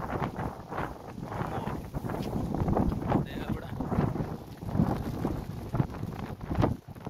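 Strong wind of a desert sandstorm in Kuwait roars and buffets the microphone continuously, with a faint voice speaking briefly beneath the gusts.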